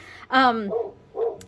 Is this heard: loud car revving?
no